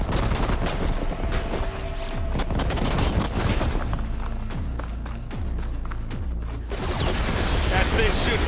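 A hostile machine fires continuous rapid bursts of gunfire in Horizon Forbidden West, loud and sustained over combat noise, with game voices speaking over it.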